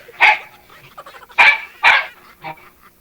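A dog barks three or four times in sharp, separate yaps, fairly close, with soft whimpering sounds between the barks.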